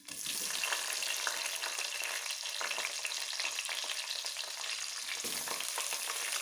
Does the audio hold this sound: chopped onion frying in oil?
yes